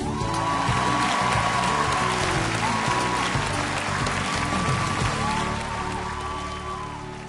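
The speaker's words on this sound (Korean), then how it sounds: "자, 큰 박수 부탁드리겠습니다." Studio audience at a Korean TV music variety show breaks into sustained, loud applause after a performance, a dense wash of clapping that slowly fades toward the end.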